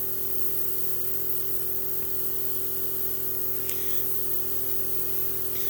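Spray can hissing steadily as primer is sprayed onto a Warhammer 40K Vindicator tank miniature, a continuous close airy spray with a couple of faint taps partway through, no talking.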